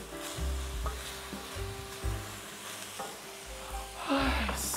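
Pounded aromatics hit ground pork frying in a pan for mapo tofu, giving a steady sizzle with occasional stirring scrapes and low clunks, close and fairly even, with no talking.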